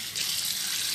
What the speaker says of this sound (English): we'll just run a little hot water up here as well